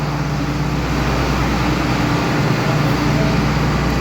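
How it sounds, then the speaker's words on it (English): A combine harvester engine runs during corn harvest, a loud, steady low drone and broad mechanical hum that continues evenly throughout with no pauses. "The combine is running."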